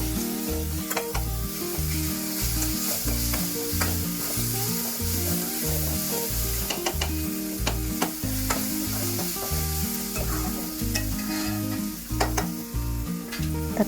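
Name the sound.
tomatoes, onions and salt sautéing for crab fry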